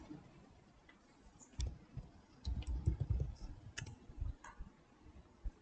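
Computer keyboard keys tapped in a quick irregular burst to enter a search into a Google Chrome search bar, faint and close, with soft clicking and no talk.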